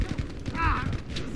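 Short burst of stationary machine gun fire in Battlefield 5 Breakthrough, rapid booming shots amid battle noise.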